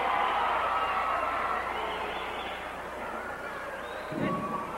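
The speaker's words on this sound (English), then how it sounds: "A big round of applause for Mil Mascaras." A 1975 wrestling arena audience applauds champion wrestler Mil Mascaras in a broad, steady roar that fades a little midway and then swells briefly near the end.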